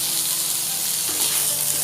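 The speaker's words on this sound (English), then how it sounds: "The water is boiling" Water boiling hard in a pot on a high flame while cooking mushroom pulav with rice and bay leaf, a steady close hiss and bubbling roar with no talk.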